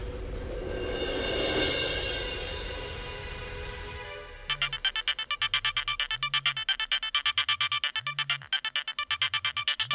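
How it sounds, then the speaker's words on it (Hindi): Mobile phone ringtone chiming for an incoming call from Arjun's mother, a loud repeating electronic melody that cuts in midway and rings steadily after a burst of dramatic background music. "अर्जुन की मॉम का फोन।"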